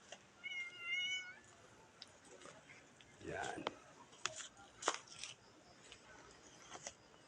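A playful pet cat gives a clear, rising meow near the start, followed by scattered rustles and light scrapes as it moves about nearby in a quiet room, with a person speaking softly at times.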